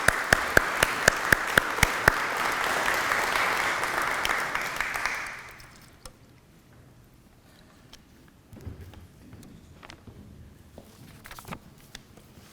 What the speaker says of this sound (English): Can we have a warm round of applause for Judge Getty?